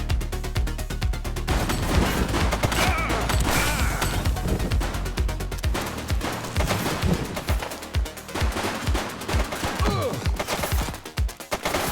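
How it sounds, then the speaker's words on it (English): Dense, rapid gunfire in the police video game The Precinct, a loud continuous barrage of overlapping shots and bursts that thins into separate cracks toward the end. "She's shooting!"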